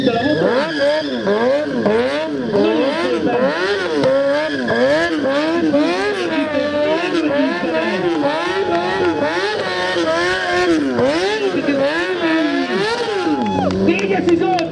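Racing motorcycle engines rev up and down continuously through rapid gear changes, loud and close, while a commentator talks over the roar.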